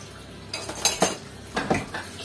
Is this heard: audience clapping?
no